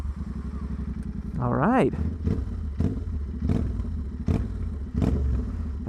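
A straight-piped motorcycle ridden by a 16-year-old fires up with a loud rising rev, then settles into a rough idle punctuated by several sharp throttle blips; a brief voice is heard near the start.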